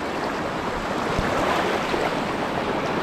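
A strong river current rushes past in a loud, continuous broadband roar of churning water, heard up close with no talking over it.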